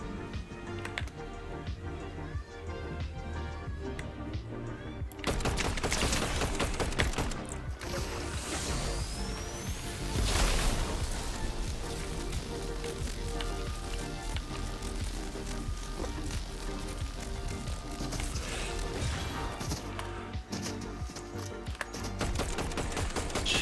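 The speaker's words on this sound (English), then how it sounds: "Let me show you how to shoot." Fortnite gunfire, with rapid bursts of shots over busy game sound and music, growing louder after the first few seconds and continuing steadily to the end.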